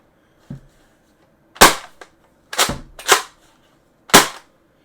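Five sharp toy-gun shots from a Gelfire Raid gel blaster, loud and close, fired one at a time with short irregular pauses; a faint low thump comes first.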